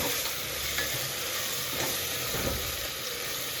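Tomato and ginger garlic paste frying and being stirred in a pan for egg biryani, a close, continuous sizzle with soft scraping strokes and no voices.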